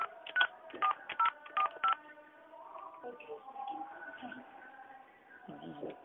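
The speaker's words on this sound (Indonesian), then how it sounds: "Kita sekarang akan nelpon ke telepon yang tadi dikasih." Five short, evenly spaced telephone keypad dialing tones, followed by a faint ringing or line sound and quiet background, heard indoors in a room.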